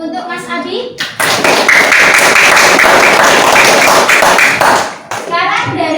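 A classroom of children claps together for a student after his presentation, a dense burst of applause lasting several seconds with a voice heard before and after.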